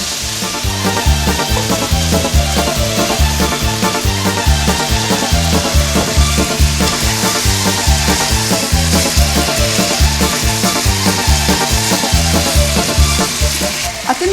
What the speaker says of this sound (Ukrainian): Наше м'ясо вже набуло е, такого гарного золотистого кольору і час додавати картопельку.